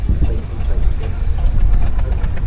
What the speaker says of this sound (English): But it's actually a compound engine. It's a Fowler 87 is what it's running on.